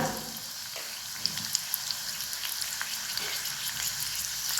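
Mustard seeds, cumin and curry leaves fry in hot oil for a cucumber vegetable dish, giving a soft steady sizzle dotted with small crackling pops, close but fairly quiet.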